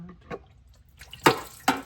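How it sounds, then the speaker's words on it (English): Transmission fluid dripping from the valve body of a 2012 Ford F-250, heard as a few separate close drops falling one after another with quiet gaps between them. "I think I'm gonna let this drip and drain and dribble for a little bit longer"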